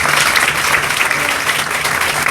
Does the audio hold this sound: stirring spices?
no